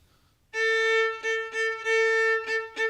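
A bowed string instrument saws out a rhythmic shuffle on one steady pitch, long stroke then short repeated strokes, close and clear.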